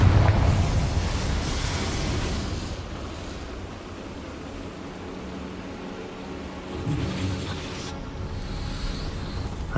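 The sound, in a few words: Confringo spell blast in the Hogwarts Legacy video game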